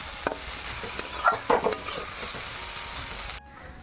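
Meat fried in a wok, with a continuous close sizzle and several clattering stirs of a spatula against the pan, ending in a sudden drop to quiet.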